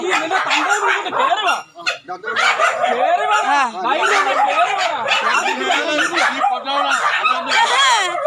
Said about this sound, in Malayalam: നിന്റെയൊക്കെ സൗണ്ട് കേട്ടാലേ പട്ടി കുറയ്ക്കും